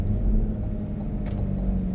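A Cadillac CT5-V sedan with magnetic ride control driving over a very bumpy road, heard as a steady low cabin rumble and road drone with a faint brief thump partway through.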